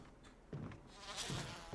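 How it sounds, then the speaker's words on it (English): Bees swarm around a giant beehive in the Resident Evil video game, giving a faint, wavering insect buzz that swells and fades in short bursts. "You see a giant beehive."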